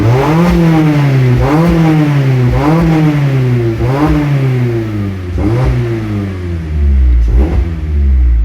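A 2021 Mazda MX-5 Miata ND engine revs repeatedly in quick throttle blips from an installed blip module, rising and falling in pitch, loud and close, with no talking.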